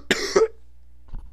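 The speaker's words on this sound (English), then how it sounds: "let me cough." A single person coughs twice in quick succession, two sharp close bursts with a brief gap, followed by a quiet pause and a faint soft throat sound.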